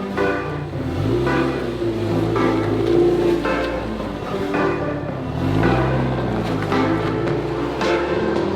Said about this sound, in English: let's get this car turned on